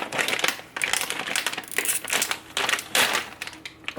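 Bag of pizza-flavored Japanese potato chips being torn open by hand, giving a close, busy crinkling and crackling of plastic packaging with sharp tearing bursts, heard throughout without talk.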